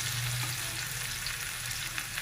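Marinated fish sizzling steadily in two tablespoons of hot oil in a pan over medium heat, a continuous bright frying hiss with no voices.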